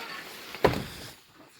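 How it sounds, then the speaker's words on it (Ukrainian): A greenhouse door is pulled shut at night, giving one dull thud partway through against a low background hum, followed by quiet. "прикриємо двері"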